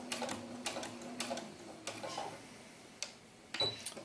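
A sewing machine backstitches a doll bodice in short, quiet bursts of rapid mechanical ticking, several brief runs separated by pauses, close and alone.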